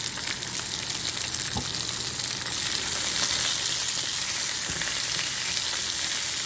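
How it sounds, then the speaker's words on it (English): Sliced zucchini sautéing in a pan, a steady loud sizzle throughout with an occasional faint clink of a utensil against the pan. "So right now I'm sauteing the zucchini."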